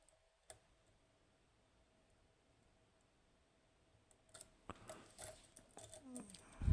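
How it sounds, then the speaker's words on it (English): Faint, sparse clicks from picking a Keso 2000S lock, a single crisp tick early on, then a cluster of small metallic clicks and scrapes growing louder toward the end, close and quiet with no talk. "small click there, okay, one is binding, click there"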